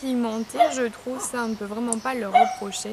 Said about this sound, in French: Je suis désolée pour le chien qui gueule à côté.